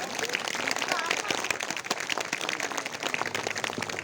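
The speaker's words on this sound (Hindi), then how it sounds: "सभी लोग जोरदार तालियां बजाएं।" Audience applause at a Buddhist story gathering, a dense continuous patter of many hands clapping loudly for the whole stretch with no pauses.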